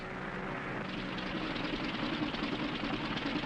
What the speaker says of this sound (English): Engine trouble, sir. We'll have to go back to the field.